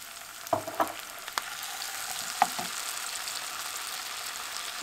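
Breakfast tomato sauce hits a hot frying pan, giving a soft, steady sizzle with a few clinks of stirring near the start, quiet and without talk.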